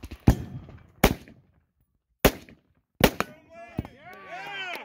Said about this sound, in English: Go, grab the rifle and shoot!